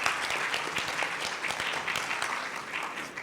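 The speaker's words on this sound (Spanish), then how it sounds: "Vamos a darles un aplauso." An audience at a civic gathering gives the mayors a dense, even round of applause that carries on steadily for a few seconds, with no talk over it.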